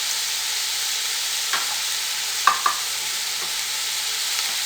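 Chicken and vegetables fry with spices in a pan, giving a steady broadband sizzle with a few short scrapes and knocks as they are stirred, close and unbroken, with no voices.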